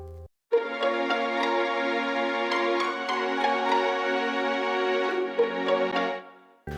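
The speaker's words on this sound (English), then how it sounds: "And then we have some pizzicatos doing some arpeggio melodies" Layered strings play together, sustained low bowed cello and viola notes under rhythmic pizzicato arpeggio figures, steady and moderately loud.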